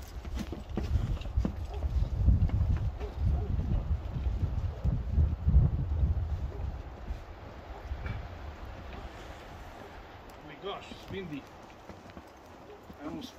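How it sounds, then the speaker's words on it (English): Strong gusts buffet the microphone in heavy, uneven rumbles at an off-grid cabin wind turbine install, easing off toward the end, with a voice faintly audible later. "Windy. I almost fall down."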